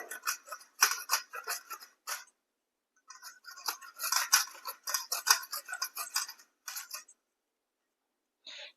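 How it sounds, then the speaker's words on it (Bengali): Persimmon pieces cut with a kitchen slicer, giving a series of crisp, close slicing strokes in quick bursts, with brief pauses and a final short cut. "এবার এরকম একটা স্লাইজার নিয়ে আমি টুকরোগুলোকে স্লাইজ করে নেবো"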